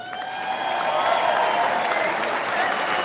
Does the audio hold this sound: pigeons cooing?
no